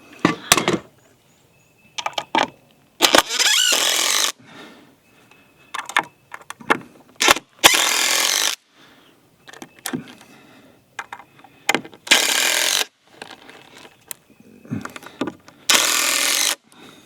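Power driver sinking 2.5-inch screws into a wooden deer feeder being built, in repeated bursts of whirring a second or so long, separated by quiet pauses and small handling clatter, close and fairly quiet.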